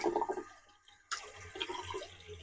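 Hot water tap running inside a converted bus, a splashing, bubbly flow that stops briefly and then resumes steadily, close and fairly quiet.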